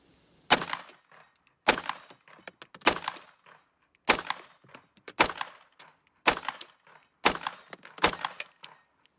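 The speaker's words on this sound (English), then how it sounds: "So let me just first kind of fire some rounds and tell you what I think." Smith & Wesson Shield .380 EZ pistol fired at a range at 20 yards, seven sharp evenly paced shots about a second apart, each with a short ringing tail.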